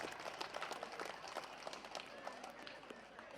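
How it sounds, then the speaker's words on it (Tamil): Audience clapping at a Tamil comedy debate stage program, a steady scattered applause from a crowd at moderate distance, lasting a few seconds. "நல்ல ஒரு சமையலுக்கு நல்ல ஒரு கைதட்டல் கொடுங்க பாப்போம்."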